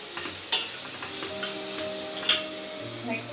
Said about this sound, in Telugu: నెక్స్ట్ కొంచెం టర్మరిక్ పసుపు, 1/2 టేబుల్ స్పూన్ పసుపు వేసుకొని ఒకసారి మనం ఫ్రై చేసుకుందాం.